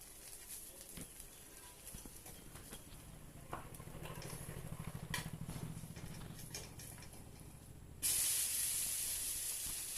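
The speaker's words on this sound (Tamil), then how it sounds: "எண்ணெயை ஊற்றி நல்லா முறு முறு முறுன்னு வேக வச்சு தோசையை திருப்பலாம்" Dosa crisping in oil on a hot pan makes a steady close hiss that swells into a louder, brighter sizzle for the last couple of seconds, with no voices.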